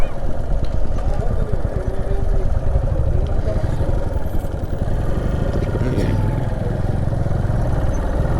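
A motorcycle engine runs at a low, uneven idle while the bike is brought to a stop and parked at Adi Kailash during a mountain road trip. The rumble is close and steady, and a voice talks over it.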